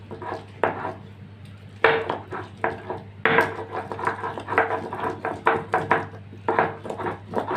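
Repeated knocks and grinding scrapes of pointed gourd being pounded into a paste for a bhorta, uneven in rhythm and close by, with hard clacks sounding at irregular intervals over a low steady hum.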